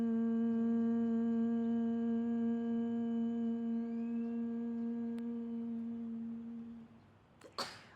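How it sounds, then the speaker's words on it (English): A steady humming bee breath hums with the tongue pressed to the roof of the mouth, a single sustained tone at a normal voice pitch held for about seven seconds, fading at the end with a soft breathy release. "you'll hum at the pitch of your normal voice"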